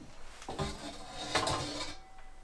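Pots and pans clatter inside a cupboard of an abandoned house, two short bursts of metal and wood knocking as items shift about, fairly close and without speech.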